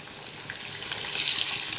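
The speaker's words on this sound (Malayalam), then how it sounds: "ചീനച്ചട്ടിയിൽ എണ്ണ ചൂടാക്കിയിട്ട് മീൻ കഷ്ണങ്ങൾ ഓരോന്നായിട്ട് ഇട്ട് കൊടുക്കുവാണ്" Pieces of fish frying in hot oil in a wok give a steady close sizzle that swells louder toward the end, with no voices.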